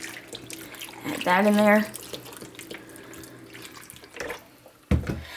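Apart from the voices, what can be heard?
beef broth poured from a box into a crock pot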